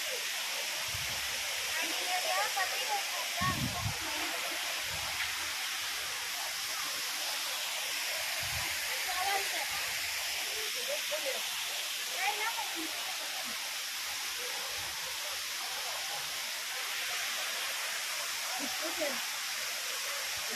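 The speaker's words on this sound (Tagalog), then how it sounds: "makikita nyo yung water, yung stream, yung agos ng tubig" Stream water flowing at a waterfall, a steady, loud rushing wash that fills the whole stretch without a break, with a few low thumps underneath.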